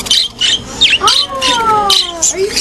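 A pet bird squawks and chirps close up in harsh, rapid bursts with some rising whistled calls, while a person talks over it.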